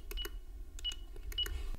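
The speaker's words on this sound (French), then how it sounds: "vous appuyez sur la touche dièse hein, qui se trouve tout en bas du téléphone et vous validez le code" Short electronic beeps sound from key presses on a Panasonic telephone, coming in three quick clusters of two or three tones each, crisp and fairly close against a quiet low background hum.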